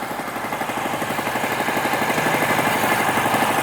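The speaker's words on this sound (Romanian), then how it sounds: "Și barca asta face un zgomot foarte mare" A loud, steady boat engine at a floating market in Vietnam drones close by with a fast rhythmic throb, continuous and unchanging, with no voices over it.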